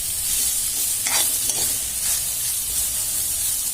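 Bitter gourd frying in butter in a pan, stirred with a utensil: steady close sizzle and hiss throughout, with brief scraping stir strokes on top and no talk.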